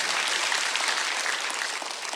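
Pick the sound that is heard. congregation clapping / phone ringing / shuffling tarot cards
congregation clapping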